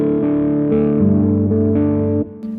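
An electric guitar plays through its humbucker neck pickup with the tone knob rolled fully off, giving a dark, muffled tone. A few sustained chords ring in sequence, close and alone, then fade out.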